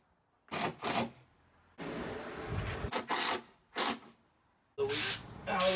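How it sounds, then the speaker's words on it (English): Several short bursts of power drilling holes into wood for a farmhouse bed, with a longer grinding stretch in the middle, close and fairly loud, separated by brief pauses. "just drill a couple holes in here to tie this in"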